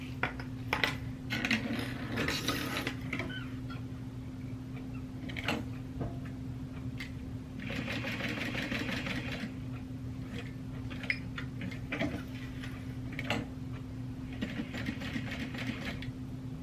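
A sewing machine stitches a barrel bag in rapid mechanical ticking bursts, starting and stopping over a steady motor hum, close and moderately loud.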